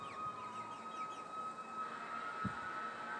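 Distant sirens wail faintly during a spring afternoon storm watch, a thin rising and falling tone drifting far off behind steady outdoor ambience, with no voices.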